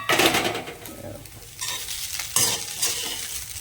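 Cooked poha being scooped from the pan onto a plate: repeated close, loud scrapes and rustling strokes of a spoon against metal over a soft background hiss, with no talking.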